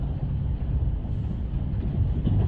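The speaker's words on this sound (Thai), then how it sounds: "อันนี้รถไฟนะคะ ทุกคน นั่งรถไฟเข้าเมืองค่ะ" Steady low rumble of a passenger train carrying riders into town, a continuous even roar with no voices standing out.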